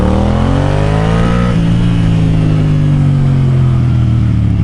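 A Yamaha MT07 motorcycle fitted with an Akrapovic exhaust revs loudly up close, its engine note climbing then easing back into a strong, throaty drone with no voices.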